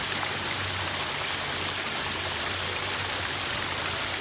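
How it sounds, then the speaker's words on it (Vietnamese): Water babbles and trickles like a small stream through a garden on a university campus at night, a steady, even hiss of flowing water with no voices. "cho cả nhà nghe tiếng nước chảy róc rách như tiếng nước suối chảy"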